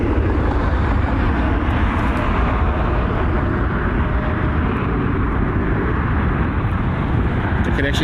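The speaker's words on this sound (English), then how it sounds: "The Connection E175 on its way out." An Embraer E175 jet departs Cleveland Hopkins airport with a loud, steady engine roar that fills the whole stretch, heard at a moderate distance with wind-like broadband rumble and no clear rise or fade.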